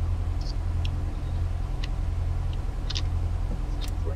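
A light aircraft engine idles steadily during a taxi in Microsoft Flight Simulator X, a constant low drone with a few faint ticks and clicks on top and no talking.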